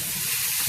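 Green beans with curry leaves tipped into a hot pan for a Tamil sundal, giving a loud, steady close-up sizzle and hiss of frying with no talk.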